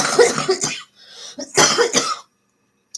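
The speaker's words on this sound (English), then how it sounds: "still coughing a bit" A few harsh coughs from a person with COVID, in two bursts with a short pause between, close and fairly loud, then silence.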